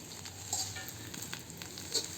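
Curry leaves fry in an iron kadai over a low flame, a soft steady sizzle with faint crackles and a couple of brief stirring scrapes, close and fairly quiet.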